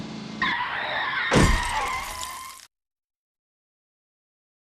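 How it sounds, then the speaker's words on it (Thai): A car's tires skid with a rising squeal, then a loud crashing collision hits, and the sound cuts abruptly to silence. "การชนปะทะย่อมเกิดขึ้น"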